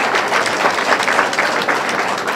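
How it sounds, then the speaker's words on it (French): Audience applause at a Senegalese Ministry of Commerce speech event, steady dense clapping from a large crowd filling the room at even loudness throughout. "M. Henri Carvalho, que je vous demande d'applaudir,"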